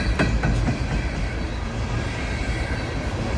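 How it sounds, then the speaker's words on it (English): A Norfolk Southern coal train, empty and bound back to Wyoming, rolls past close by with a continuous loud rumble and rattle of wagons and faint rhythmic wheel clacks throughout. "So this train is heading back to the state of Wyoming to get more coal and come back."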